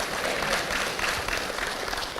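Church congregation clapping during a sermon, a dense, continuous patter of many hands that holds steady across the short stretch without pause.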